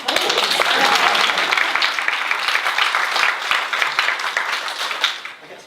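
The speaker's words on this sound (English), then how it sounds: "And a round of applause." An audience at a launch event for a first birthday party claps: dense, sustained applause of many hands, loud at first, then gradually thinning and fading toward the end.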